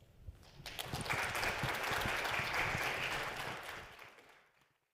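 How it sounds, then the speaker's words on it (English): An audience applauds after speakers at a university graduate-student talks event, a dense sustained wash of clapping that swells, holds steady for a few seconds, then fades out. "let's give a round of applause to all these fabulous speakers"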